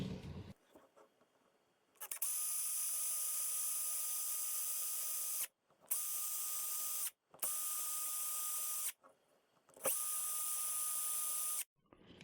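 A power drill cutting a countersink hole whirs in four steady high-pitched bursts separated by brief pauses, close up with no talking.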